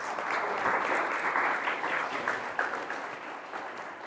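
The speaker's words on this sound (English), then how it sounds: "If we can ask for a round of applause for those sponsors." A seated audience at a community event gives sustained applause for sponsors, a dense wash of many hands clapping at moderate distance, steady then gradually thinning, with no speech over it.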